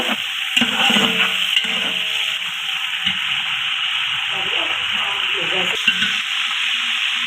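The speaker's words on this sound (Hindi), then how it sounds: "ये देखिएगा चिकन हमारा इसमें फ्राई हो रहा है।" Chicken for pulao fries in a pot with a continuous loud, hissing sizzle and occasional stirring clatter, steady and close throughout.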